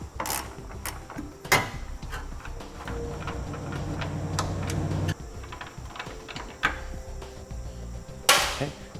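Ratchet fitted with an 18mm socket backing out bolts during a trailer hitch install on a 2014 Nissan Rogue, giving rapid clicking bursts and metallic clatter with sharp knocks, close and fairly loud.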